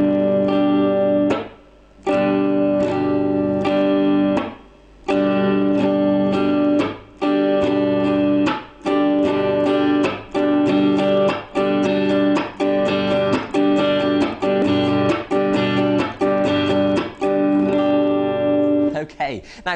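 Guitar strummed in a steady down, up, palm-muted chop, up pattern, bright ringing chords broken by regular short percussive chops with brief gaps, played alone and up close for about twenty seconds.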